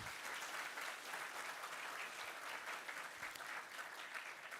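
Steady, dense applause from an audience at a university MBA orientation event fills the clip, continuous and even throughout.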